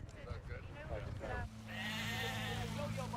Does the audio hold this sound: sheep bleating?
yes